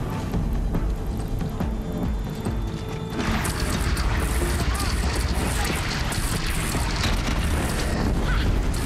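Cannon fire and explosions in the video game Horizon Zero Dawn, a dense, continuous roar of booming blasts and clattering mechanical noise that grows louder and busier partway through, with no pauses.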